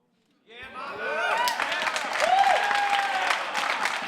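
A StarCraft 2 tournament crowd at a California semifinal bursts into cheering and applause after a moment of silence, a swelling roar of clapping and whoops that stays loud, with shouted voices rising above it.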